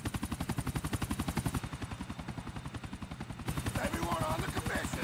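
A helicopter in the video game GTA IV gives off a steady, rapid rotor chop that stays loud throughout, with other game sounds layered over it.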